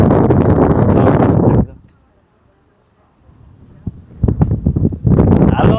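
Strong gusts of sea wind buffet the microphone at Rostock beach on Germany's coast, loud roaring bursts at the start and end with a quieter lull between, where a few faint clicks and voices come through.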